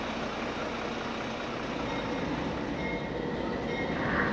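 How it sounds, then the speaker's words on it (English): Indian Pacific passenger train arriving at a station platform, a steady broad rumble of wheels and coaches rolling in close by, continuous and fairly loud with a faint higher squeal toward the end. "the Indian Pacific from Sydney is now arriving on Platform 1."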